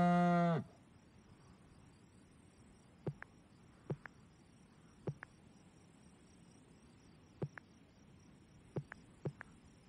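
A cow moos once, loud and drawn out, in the farm game Orwell's Animal Farm, then fades into a quiet background of chirping crickets and soft, evenly spaced clicks.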